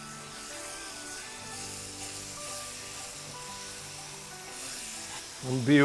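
Orange juice sizzling and cooking down in ghee in a pan while making walnut and date halwa, a steady soft frying hiss throughout, with a brief louder clatter at the very end.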